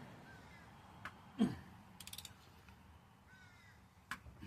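A socket ratchet tightens the oil drain plug during an oil change: a faint, brief run of quick clicks near the middle, with a crow cawing in the background and other small mechanical sounds.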